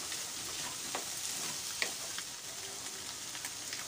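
Capsicum stir-frying in a pan of egg fried rice: a steady, close, even sizzle with faint scraping stirs throughout.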